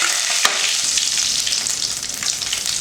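Mustard seeds, urad dal, cumin and curry leaves fry in hot oil for semiya upma, giving a close, continuous sizzle scattered with small crackling pops and an occasional stir.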